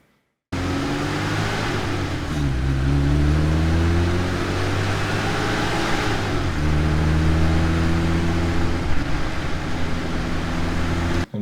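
Car engine isolated while driving, a close, loud mid-pitched drone that climbs and drops with repeated revving and shifts, continuous from start to finish with no voices.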